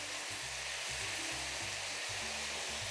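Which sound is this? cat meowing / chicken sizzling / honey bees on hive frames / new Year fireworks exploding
chicken sizzling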